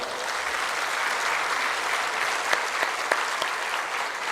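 Audience applause for land acquisition officials during a political speech, dense sustained clapping with a few sharper claps standing out near the end.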